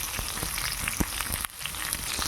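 Pointed gourd and paneer frying in a pan, a steady close sizzle with occasional crackles and soft stirring clinks throughout.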